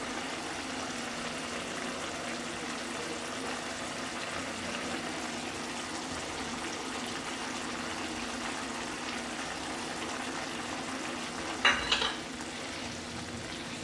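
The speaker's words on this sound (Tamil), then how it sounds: "பருப்பு சேர்த்து ஒரு முறை நல்லா மிக்ஸ் பண்ணிடலாம்." Cooked lentils are stirred into vegetables in a pot, with steady soft sizzling and wet mixing and scraping throughout and a short louder clatter near the end.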